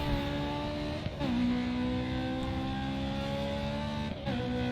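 A race car engine in the video game Grid 2 revs steadily and loudly throughout, its harmonic drone stepping up in pitch twice, with brief dips suggesting gear changes, and no talking.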